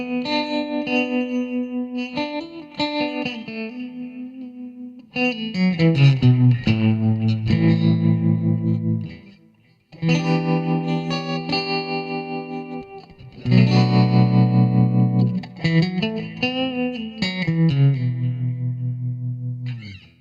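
An Ibanez RG421 electric guitar played through a Firehawk FX with tremolo and delay, clean sustained notes and chords pulsing and echoing in a slow melodic phrase, with no talking.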